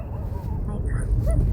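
A dog whimpers and gives short yelping barks, heard briefly over heavy low rumbling background noise, with a voice speaking at the same time.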